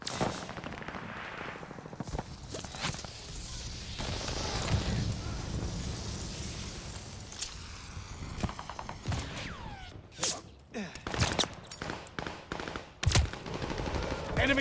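Gunfire in Call of Duty: Vanguard, with bursts of rapid shots and single loud cracks across a noisy battlefield, and a voice talking briefly.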